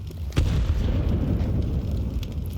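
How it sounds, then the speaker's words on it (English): A flashbang grenade goes off in Counter-Strike 2 during a professional ESL Pro League match, a sudden loud blast followed by a dense, rumbling wash of game noise that stays loud to the end. "Flashbang on."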